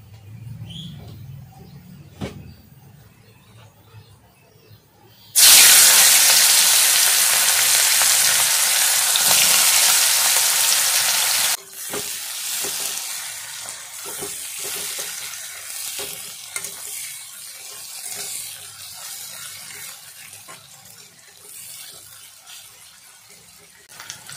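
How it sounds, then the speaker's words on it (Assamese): Chopped onions dropped into hot fish-frying oil, bursting into a loud, dense sizzle that settles into a steadier crackling fry with stirring scrapes. "কাটি ৰখা পিঁয়াজ দি দিম"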